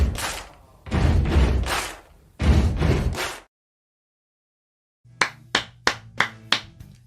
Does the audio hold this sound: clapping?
yes